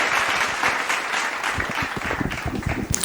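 An audience at a devotional Ram bhajan gathering applauds, a dense burst of many hands clapping that stays steady and fairly close for the whole three seconds, with no speech over it.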